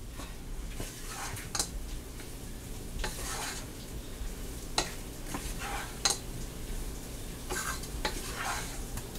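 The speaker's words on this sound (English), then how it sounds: "Stir it up." Stroganoff ingredients with garlic sizzle steadily in a pan while a utensil stirs them, with several sharp scrapes and clinks against the pan rising above the constant frying hiss.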